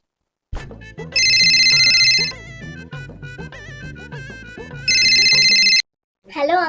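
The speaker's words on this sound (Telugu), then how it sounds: "మీకు ఏదో ఫోన్ వచ్చినట్టు ఉంది" A mobile phone ringtone plays loudly indoors in a Telugu TV drama scene, a bright electronic melody with two sustained ringing bursts that stop abruptly before a brief new sound.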